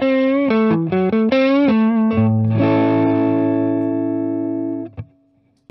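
An electric guitar through a Kernom Ridge overdrive pedal plays a quick run of distorted notes, then one chord rings out and decays in a long, heavy reverberant wash before cutting off.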